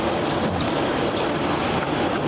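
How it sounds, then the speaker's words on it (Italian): About a litre of water poured into a container for Neapolitan pizza dough, a steady splashing, filling rush heard close and alone for a couple of seconds. "andiamo a versare l'acqua in un contenitore e facciamo 1 litro d'acqua"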